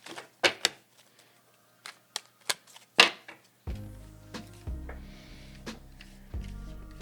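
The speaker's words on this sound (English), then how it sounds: "let's do one more shuffle" A deck of tarot cards is handled and shuffled nearby, first with sharp irregular taps and flicks, then with softer riffling bursts and low thumps, and no one speaks.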